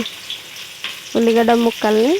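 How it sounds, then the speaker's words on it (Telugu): Onion pieces and green chillies sizzle loudly and close in hot oil, a steady frying crackle throughout with a voice speaking briefly over it near the end. "ఇప్పుడు ఆయిల్ అనేది వేడైపోయిందని ఇప్పుడు వచ్చేసి ఉల్లిగడ్డ ముక్కలు పచ్చిమిర్చిని వేసుకొని"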